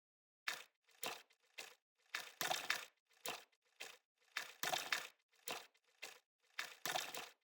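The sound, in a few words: randomized beat from sliced smartphone field recording in XLN Audio LIFE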